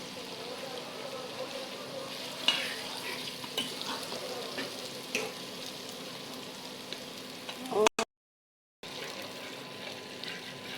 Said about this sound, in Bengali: এদের ভালো করে নেড়ে চেড়ে আস্তে আস্তে রান্না করতে হবে, ভাজা ভাজা করতে হবে।